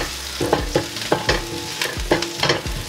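Fenugreek seeds sautéed in a pan for fish curry, a close, loud sizzle broken by about eight rhythmic scraping strokes of a spoon against the pan.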